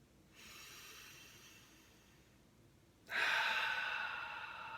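Two slow, breathy airflows during seated couch yoga, a soft inhale followed after a pause by a louder, longer exhale, close up with no talking.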